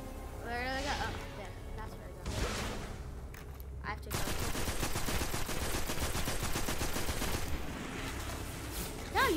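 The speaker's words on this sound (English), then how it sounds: "I am shooting" Rapid automatic gunfire from the video game Destiny rattles in sustained bursts, with whooshing effects and brief pauses between volleys, while a voice talks intermittently over it.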